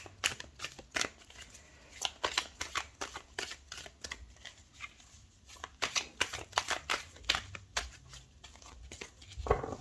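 Tarot cards are shuffled by hand in a quiet room, a long run of quick, soft riffling bursts and flicks in uneven clusters, close and fairly faint.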